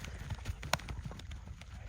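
Hooves of a four-year-old horse clip-clopping as it is run back and forth for a buyer, moderately near with faint voices and outdoor background underneath.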